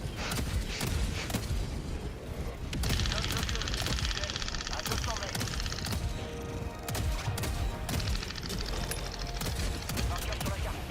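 Sustained turret gunfire in Helldivers 2, a dense stream of rapid shots and booming impacts mixed with battle noise that continues loudly throughout.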